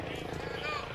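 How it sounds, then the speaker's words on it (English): A helicopter arriving to pick up a shooting victim, its steady rotor chop rumbling at moderate distance beneath someone talking. "There's a helicopter coming in to get him."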